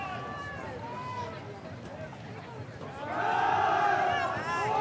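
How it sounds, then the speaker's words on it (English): A high school football crowd cheers in the stands. The noise swells loudly partway through under a commentator's voice. "Crowd showing its appreciation."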